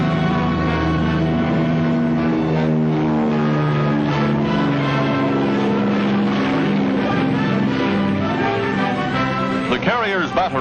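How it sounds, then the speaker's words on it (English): Enemy wartime propeller planes attack an aircraft carrier, a loud continuous engine drone that shifts in pitch as they pass, with a sharp whining rise near the end. "Enemy planes attacking in force."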